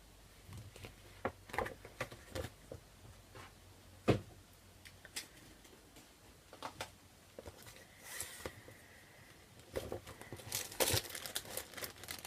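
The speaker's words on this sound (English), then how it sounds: "there's going to be some crinkling coming up" Packaging crinkles in short bursts during a cross-stitch show, scattered through the stretch with louder clusters near the end, close and fairly quiet with no talking.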